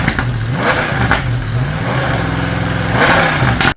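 A high-performance race car with a 691-horsepower engine in the Forza Motorsport video game revs hard and close, rising and falling through several loud accelerating sweeps with sharp gear-change breaks.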